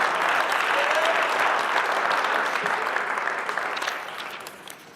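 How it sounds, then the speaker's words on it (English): Applause from an audience at a high school signing day ceremony, a broad sustained clapping from a crowd of people that holds steady and then gradually thins and fades toward the end. "Give Jason a round of applause."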